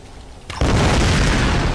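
A loud explosion bursts in the action game Tomb Raider (2013), a sudden boom at about half a second that swells into a sustained roaring rumble filling the rest of the moment.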